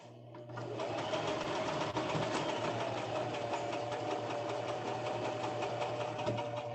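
A home sewing machine runs steadily and close for the whole stretch, stitching fabric with a continuous fast mechanical whir and a low motor hum while a witch costume is sewn.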